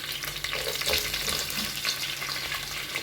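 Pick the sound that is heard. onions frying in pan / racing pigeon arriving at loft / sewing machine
onions frying in pan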